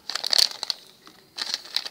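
A plastic blind-bag packet holding a Marvel collectible figure is crinkled open by hand. Two bursts of close, crisp crackling are split by a short pause.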